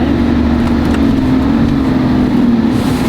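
A truck engine stuck in low gear drones loud and close with a constant, strained revving hum that holds steady without shifting.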